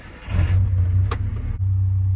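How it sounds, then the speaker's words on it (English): A Nissan D21 truck engine fitted with a MegaSquirt ECU cranks and catches, settling into a loud, steady low idle rumble with a brief sharp click partway through; no talk is heard. "Start the truck up."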